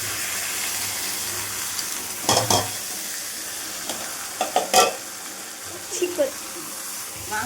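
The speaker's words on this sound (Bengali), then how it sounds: "আমি এইবারে মাংসগুলো ঢেলে দেবো এর মধ্যে" Mutton is tipped into a pan of fried onion, garlic and spice mix, giving a steady loud sizzle with a few bursts of clattering and stirring over it and no talk.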